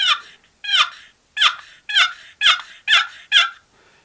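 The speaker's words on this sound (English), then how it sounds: "know that that is a box call" Turkey box call played by hand, giving seven crisp, loud yelps in an even cadence, each note cut off sharply, close up with no talking.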